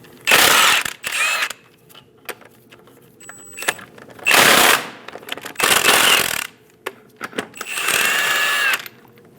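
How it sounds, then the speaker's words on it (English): Several bursts of a power tool's rapid ratcheting whir through a 22mm socket, removing lug nuts from the front wheel of a 2001-2006 Chevrolet Silverado 2500 HD. Each lasts about a second, separated by short quiet gaps with small metallic clicks. "Using a 22mm socket, remove all 8 lug nuts."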